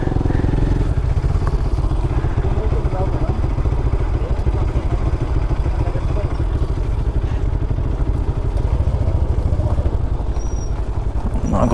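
Motorcycle engine running steadily throughout on a ride toward Srisailam, a continuous loud mid-pitched drone with rhythmic engine pulsing and some clatter, no talking over it.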